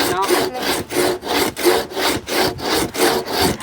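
A hand saw with a new blade fitted to a bow-style frame cuts through wood during house construction, giving steady rhythmic rasping strokes, about ten back-and-forth passes, loud and close with no talk over it.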